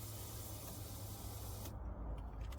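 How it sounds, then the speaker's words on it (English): A fuel pump hisses steadily as it fills the fuel rail of an LS-swapped GMC Vandura, a faint continuous whine that drops in the upper range near the end. "You can hear it filling up that fuel rail."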